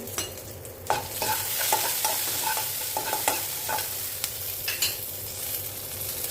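Oil sizzles and crackles steadily as spices fry for tempering greens, with scattered sharp pops and occasional stirring clinks close by.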